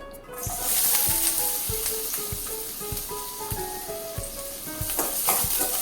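Onion and green chili sizzle and fry in hot oil, a continuous crackling hiss with occasional soft knocks of stirring, no voices.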